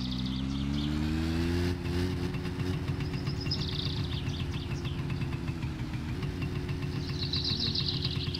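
A car engine running steadily as the car drives in the My Summer Car game, a continuous mid-pitched drone with slight rises in revs, loud and close with no talk.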